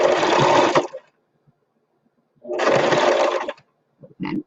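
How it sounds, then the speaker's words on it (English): A sewing machine stitches a thick layer of banner fabric held with pins, running loud and steady in two close bursts separated by a pause, then a brief short run at the end. "You don't want to sew across them with this much material in it."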